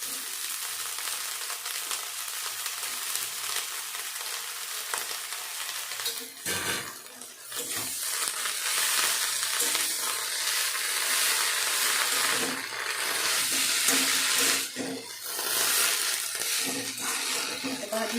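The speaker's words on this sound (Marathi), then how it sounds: "छान परतून घेतो मी मीडियम गॅसवर भाजी छान परतून घेऊ" Tender chickpea leaves with coarsely crushed garlic sauté in a pan over medium heat, producing a dense steady sizzle with occasional stirring scrapes and a short dip in the noise partway through.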